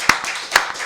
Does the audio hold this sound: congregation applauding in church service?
yes